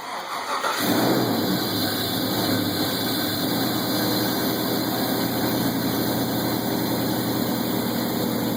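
A junkyard 4.8 engine cranks and fires for the first time, catching quickly and settling into a loud, steady, slightly rough idle close by.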